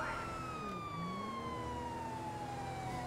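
A police car siren wails in Grand Theft Auto V, one long sweeping tone gliding steadily down in pitch over engine noise, moderately loud and without voices.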